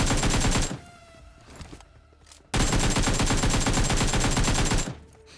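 Automatic gunfire from PUBG on the Erangel map, in the Pochinki area, comes in two long sustained bursts of rapid shots, loud and dense, separated by a quieter stretch with scattered distant shots.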